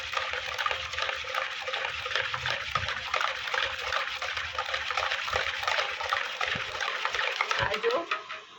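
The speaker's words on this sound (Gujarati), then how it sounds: "આમાં જેટલું પાણી હોય એ પાણી બધું કાઢી લેવાનું છે" Water drains out of homemade cream in a continuous close trickle and splash, steady throughout with a few soft knocks underneath.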